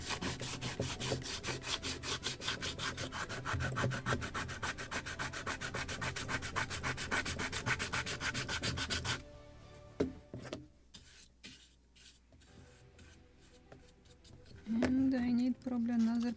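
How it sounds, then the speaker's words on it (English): Sandpaper rubs on the wood of a model lobster smack boat kit in quick, even back-and-forth strokes for about nine seconds. Scattered light taps and handling noises follow, then a brief voice. "And I need probably another piece of sandpaper."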